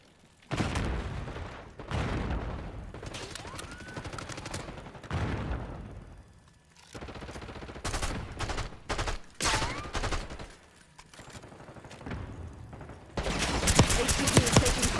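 Gunfire in Black Ops 6, bursts of automatic shots and fusillades, some near and loud, others further off, with game voices heard between the volleys.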